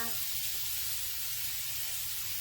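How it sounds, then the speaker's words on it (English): Four slices of bacon sizzling on a hot griddle, a steady bright crackling hiss that stays even and close throughout, with no talking. "now I'm going to put 4 slices of bacon on the griddle part"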